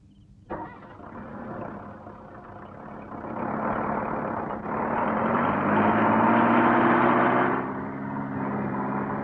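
A vehicle engine turns over and settles into a steady idle nearby, a continuous rumbling drone that swells louder midway and holds, with no voices over it.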